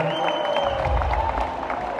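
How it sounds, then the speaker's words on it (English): A crowd at a butcher competition claps and cheers briefly for a competing butcher, a short dense burst of applause with a voice over it. "give a massive round of applause to Shannon for doing this and competing today"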